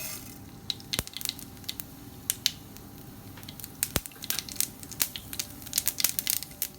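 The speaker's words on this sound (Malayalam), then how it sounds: "കടുകെല്ലാം പൊട്ടി" Mustard seeds pop in hot coconut oil for a cucumber and mango curry, with sharp, irregular crackles and snaps bursting close by, some loud and some faint, over a soft steady hiss.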